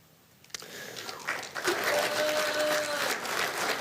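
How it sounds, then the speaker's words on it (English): Applause from the audience at a Kern County Board of Supervisors meeting, starting quietly and swelling into sustained clapping that fills the room. "I want to ask everyone to please refrain from applause"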